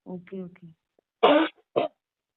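Two short, harsh coughs ring out close by, right after a brief bit of speech.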